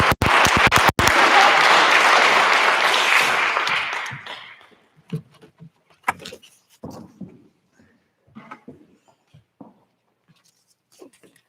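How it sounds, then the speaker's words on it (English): Loud, dense audience applause at a high school honors and scholarship night fills the first four seconds, then fades away, leaving scattered shuffles, taps and faint movement noises in a quiet room. "Let's give them a round of applause."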